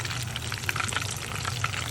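Oil spatters and crackles steadily around crispy chicken frying in a small pan, a close, dense sizzle full of quick pops.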